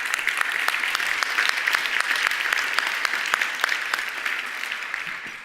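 An audience at a women in tech awards keynote claps steadily, a dense patter of many hands that holds level and then fades slightly at the end.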